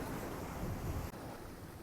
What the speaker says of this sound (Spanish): ¿Escuchan el mar?